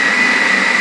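A mixer whirs steadily, close and loud, blending a no-bake protein cheesecake filling of vanilla protein powder and vanilla extract, a continuous motor drone with no talk.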